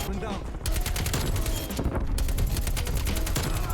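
Rapid bursts of AK-47 fire from a first-person shooter game, dense and continuous across the whole stretch with brief gaps between strings of shots, loud and up close over game ambience.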